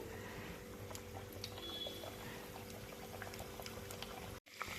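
Farali cutlets deep-fry in hot oil on a medium-to-high gas flame, a faint, even bubbling hiss that runs steadily without any voices before it cuts out abruptly near the end.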